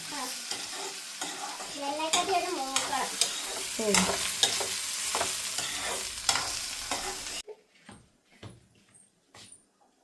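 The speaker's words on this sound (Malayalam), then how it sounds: "ഇത് ഇളക്കി കൊടുക്കണ്ടേ ശരണ്യ" Stirring and scraping in a pan over a steady sizzle of frying food, close up, with a dog whimpering faintly; the sizzle drops away near the end.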